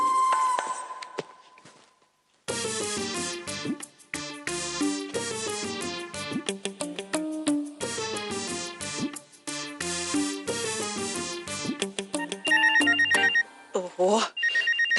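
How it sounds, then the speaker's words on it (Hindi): A telephone rings with a repeating, melodic electronic ringtone that plays continuously and fairly loud after a short quiet lead-in, with a faint voice near the start. "मुझे मॉडलिंग के लिए फोन आना शुरू हो गए।"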